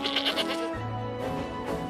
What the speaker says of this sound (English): He loved all the sights and all the sounds, especially the sounds of the mountain goats.